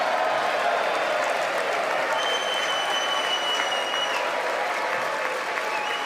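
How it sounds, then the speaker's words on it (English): An audience in the chamber at a State of the Union address breaks into sustained applause, a dense, even wash of many hands clapping that holds steady throughout with no voices standing out. "Yeah, that's normal for them to clap every time."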